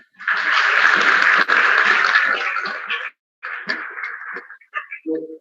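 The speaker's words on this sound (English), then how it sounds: "So clap for them." An opening-ceremony audience applauds the event's organising teams, a dense, loud burst of clapping that runs for about three seconds, then returns in shorter, thinning spurts before dying away.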